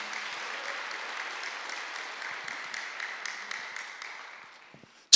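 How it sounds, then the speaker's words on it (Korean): A church congregation at a Sunday worship service claps in a sustained round of applause that gradually fades away, ending with a brief sharp sound. "박수를 하나 더 해주세요."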